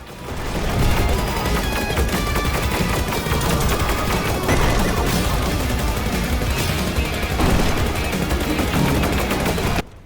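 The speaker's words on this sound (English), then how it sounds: "the main Vulcan cannon's rhythmic firing never getting old" Rapid, steady cannon fire from an aircraft's Vulcan gun in the shoot-'em-up game Rogue Flight, a dense, punchy barrage running almost unbroken for ten seconds with music and explosions layered in.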